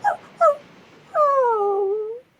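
A puppy left alone on a city street whimpers in two short yips, then one long, wavering whine that falls in pitch, close and clear with no other sounds.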